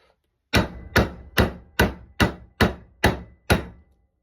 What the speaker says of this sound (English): Brass hammer makes short work.